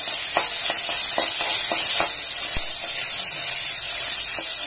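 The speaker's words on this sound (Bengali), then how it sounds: "এবার আদা দিয়ে আর একটু চালের সঙ্গে নেড়ে নেবো, আদার যে কাঁচা একটা গন্ধ আছে সেটা ভেজে নিচ্ছি।" Chopped ginger fries with Gobindobhog rice in hot oil, a loud continuous sizzle and hiss broken by scattered scraping clicks as the pan is stirred.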